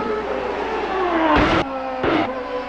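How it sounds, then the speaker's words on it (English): Paul Tracy's race car engine holding a steady, loud high-pitched drone, broken by two short bursts of rushing noise as the car sweeps past. "Well, listen to the engine."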